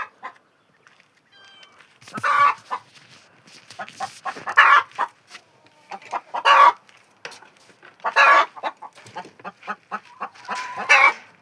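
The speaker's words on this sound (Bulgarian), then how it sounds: "Ето го петелчето." Hens cluck and squawk in irregular bursts close by, a rooster's voice among them, with scattered scratching and flutters between calls.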